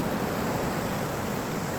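Steady broadband roar of surf washing in against a house by the shore, continuous and fairly loud with no distinct breaks between waves.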